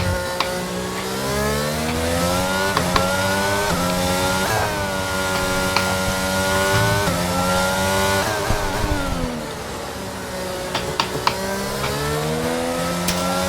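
An F1 22 race car at the Australian Grand Prix screams through repeated rising revs with quick gear shifts and brief dips. The engine is loud, close and continuous, with no talk over it.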